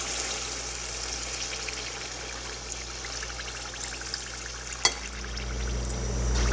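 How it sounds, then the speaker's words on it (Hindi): Water pours into a pan of sautéed potato and peas curry, a close, steady hissing stream over a low sizzle for several seconds, with a brief clunk near the end. "अब इसमें पानी डालेंगे।"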